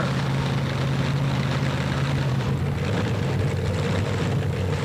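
A 1970 GMC pulling truck with a 604-cubic-inch, 1,400-horsepower engine idles with a loud, steady low rumble, close up and unbroken, amid arena ambience.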